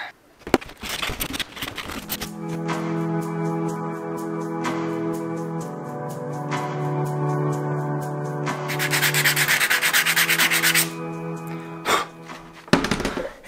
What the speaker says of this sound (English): So it's not sanding off very well, it's kind of smearing,